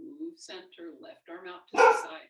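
A dog indoors barks at the wind. A woman gives calm exercise instructions, then one sudden loud bark cuts in close by.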